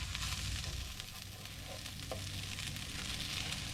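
Meat browning in an extremely large pan, giving a steady close sizzle and frying hiss with faint stirring scrapes throughout.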